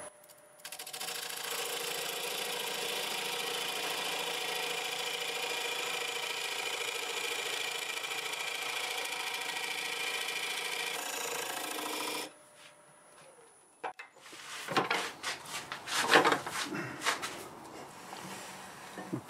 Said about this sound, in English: we'll just take the skew and cut the angle on it for the dovetail